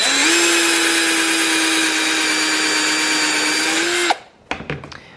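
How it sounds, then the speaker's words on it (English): A power drill whines steadily at close range for about four seconds, drilling a hole in an Air Force 1 shoe, then stops, followed by a few brief clicks and scuffs. "it just goes right in the hole and you just drill it"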